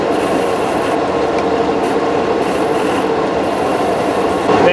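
Lathe cutting a groove in a homemade steel ball bearing pulley for wire rope, giving a loud, continuous grinding rasp with a faint high whine running steadily throughout at close range.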